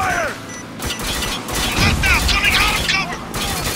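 In Spec Ops: The Line, a grenade goes off in a desert firefight, throwing up sand, with a loud burst and crackling debris amid gunfire and chaotic game noise, while a voice talks over it.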